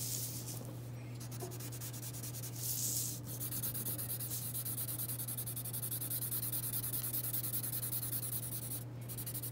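A pencil crisscrosses on paper while shading a mug drawing, producing quiet, close, continuous scratchy rubbing strokes in a steady rhythm over a low electrical hum.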